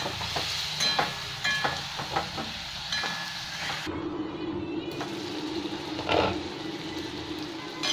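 Spices and dried green mango (amsi) frying in a pan with potatoes, a steady close sizzle and hiss broken by repeated scraping and stirring clatters, with no talk.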